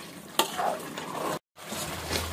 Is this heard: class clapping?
no